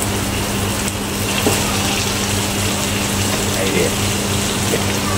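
Water pours steadily into a pot for bone soup, a continuous close gush with a constant low hum underneath, and no speech over it.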